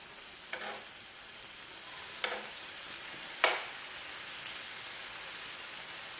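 Lamb meat sizzles on a grill just after being flipped, a steady close hiss with a few brief crackling pops and no talk.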